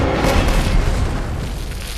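A grenade blast in a Kingsman film scene: a loud, deep, rumbling boom that fills the whole short clip and slowly dies away, with no voices.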